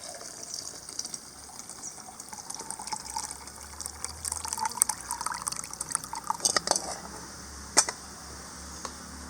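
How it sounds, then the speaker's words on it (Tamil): Jar-rinsing water, made from soaked tamarind and ground masala, is poured into an anchovy fish curry in an outdoor village kitchen, giving a soft, steady splash and trickle with occasional drips, close by and fairly quiet, with no talking. "இந்த தண்ணியிலே வந்து கொஞ்சம் ஜாரை கழுவி ஊற்றிடலாம்."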